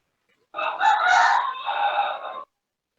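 A single loud, close rooster crow lasting about two seconds, rising and then holding a drawn-out tail, heard alone against silence.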